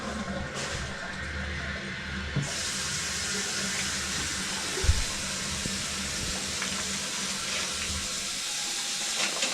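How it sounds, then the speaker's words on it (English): A hand sink faucet runs cold water steadily, a continuous rushing hiss of water into a sink, with a faint bump partway through. "Run that hand sink cold water."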